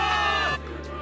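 Soldiers cheering for victory in the Zenless Zone Zero video game, a loud crowd roar with shouts that drops off sharply midway and leaves quieter background ambience.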